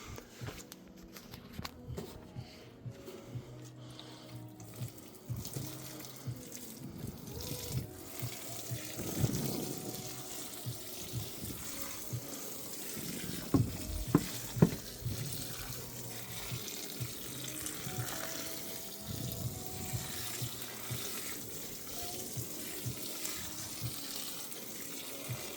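Water poured into a bucket of peat moss, a steady trickling and splashing running throughout with some shuffling and handling noises, no talking.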